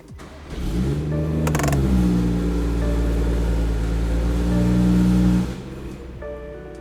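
A BMW B58 engine idles in a 2016-onward model during an oil change, giving a steady, close, loud low drone that holds evenly for several seconds before dropping off near the end.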